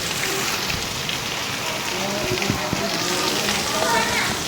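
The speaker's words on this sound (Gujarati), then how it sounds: "જોરદાર વરસાદ પડે છે." Dense, heavy rain pours steadily onto surfaces with a constant hiss and patter, and voices are faintly audible beneath it.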